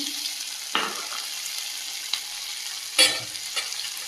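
Prawns frying in a pan give a low, quiet sizzle broken by a few sharp spatula scrapes and clinks, one louder knock near the end, with no speech.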